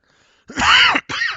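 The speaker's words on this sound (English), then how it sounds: "apologize again for the coughing" Two loud, close coughing bursts from a livestream host during a Q&A about the game Ashes of Creation, the first longer and harsher, the second shorter after a brief gap, with no talk around them.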